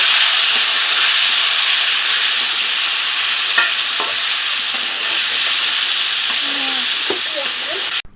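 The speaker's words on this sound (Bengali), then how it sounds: "বাড়িতে এসে এই যে বেম মাছ দিয়ে আলু দিয়ে রান্না করতেছি অনেক গরম হয়েছে মাটির চুলে রান্না করছি" Fish and potatoes cooking in a pot over a clay stove at home, a loud continuous hiss of frying with a few light clinks and scrapes near the end.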